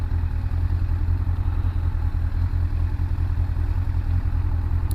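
A Yamaha FAZER 1000 motorcycle runs under way, its engine a steady, loud, close low rumble that holds level throughout with no clear break for a gear change.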